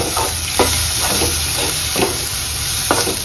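Homemade red chili powder masala fries in oil with a constant sizzle, while a spoon scrapes through it in regular strokes about once a second.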